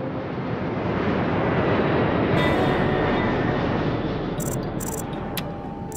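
A cartoon airplane takes off with a loud, steady jet-engine roar that swells and holds, then eases slightly as it climbs away, with no talking.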